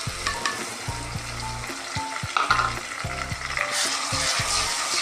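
Garlic ginger paste hits hot oil with onions fried until translucent, giving a loud, steady sizzle with repeated stirring clatter from a spoon against the pan, no voices.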